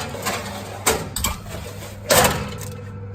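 Pork ribs go into a preheated oven at 150 degrees C with a few sharp clanks and thuds, likely a tray or the oven door. They come as separate knocks over a steady background hum.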